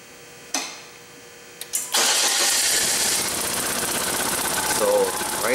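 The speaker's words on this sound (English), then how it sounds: "Just gonna crank the engine." Car engine being cranked during a compression test: a couple of brief clicks, then a short crank and the engine catching into a loud, steady run that continues to the end, with no voices over it.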